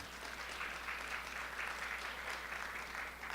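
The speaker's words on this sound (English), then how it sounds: "You don't have to clap for all of these." Audience applause during a talk on fair trade, a dense, even wash of clapping from a crowd that holds steady throughout.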